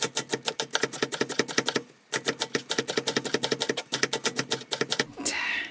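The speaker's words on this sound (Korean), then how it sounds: "흰 대파 부위 한 대만 준비를 해가지고 총총 썰어가 양념으로 넣어줄 겁니다" A knife thinly slices the white part of a green onion on a cutting board, fast even chopping strokes in two runs with a short pause between, close and crisp, no talk.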